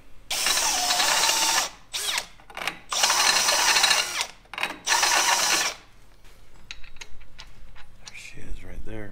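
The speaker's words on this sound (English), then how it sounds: "what I'm doing is I'm doing a counter bore here so we can get a nice bead around the top" A power tool cuts a counter bore in metal on a Jeep to prepare it for welding, loud grinding whirs in three or four bursts with pauses, then quieter ticking and clinks.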